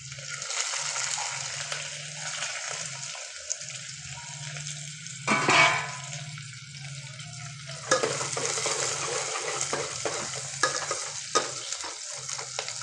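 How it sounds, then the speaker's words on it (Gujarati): Green chillies and onion fry in tempering oil for a bottle gourd and chana curry, a close hiss with a loud burst near the middle, then busier crackling and stirring. "આ વંગારને હવે આપણે થોડો પાકો થવા દેશું।"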